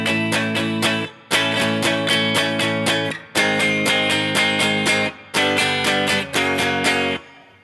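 Guitar playing a repeated riff from a song, four bright strummed phrases, each a quick run of rhythmic chords followed by a short break, played close and alone.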